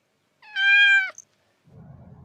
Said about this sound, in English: Wow, this is a cat.